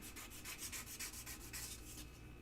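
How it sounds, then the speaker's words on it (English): Sandpaper rubs back and forth along an edge in a steady run of close, repeated strokes, a dry hissing scrape with no voices over it. "And then I'm going to hit it with some sandpaper"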